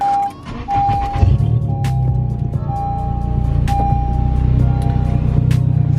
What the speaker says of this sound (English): I have a PRL catless downpipe paired with the NVIDIA N1 cat back exhaust.